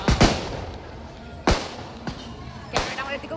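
Firework bursts during Kali Puja celebrations, three or four sharp booming cracks spaced about a second apart at moderate distance, with faint background voices.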